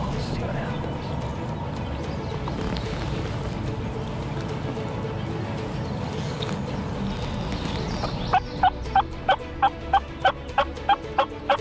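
A bird calls in a field during a hunt after soft hunting calls, giving a regular series of sharp, evenly spaced pulses near the end, with low murmuring voices and outdoor background earlier.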